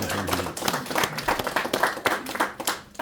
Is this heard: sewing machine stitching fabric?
no